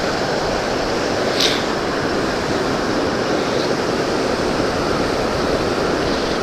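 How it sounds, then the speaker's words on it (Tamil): Water released from Mettur dam rushes past in a loud, continuous roar, close and unbroken from start to finish, with no talking over it. "இப்படி இருக்கு தண்ணி, பயங்கர வேகமாக வருது"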